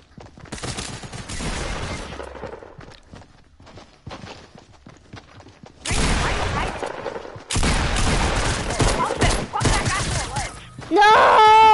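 Gunfire in a video game, with loud bursts of shots and action noise in several dense stretches, while people talk over it.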